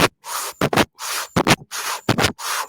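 A human voice imitates a heart murmur with rhythmic breathy whooshing sounds. Longer hissing swells alternate with quick paired puffs in a steady, repeating pattern, close and fairly loud.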